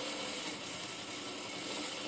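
A sewing machine running a seam on a fabric pencil case hums with a continuous close mechanical whir, its rapid stitching steady and unbroken throughout.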